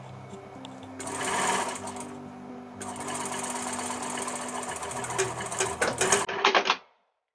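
A sewing machine runs close up, stitching a seam on a tote bag with French seams in steady bursts that quicken into short stuttering runs near the end, then stop.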